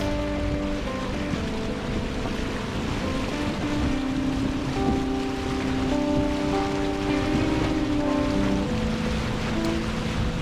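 A vehicle wading through a not-quite-knee-deep river crossing over smooth river rock: continuous churning water splash over a steady engine hum, loud and close, with no speech.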